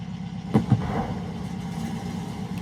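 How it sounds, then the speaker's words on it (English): A Latecoere 631 flying boat in MSFS 2024 has its inboard engines cartridge-started: two sharp pops come in quick succession, followed by a low, steady engine rumble that holds under a constant hum. "These engines are started with a cartridge."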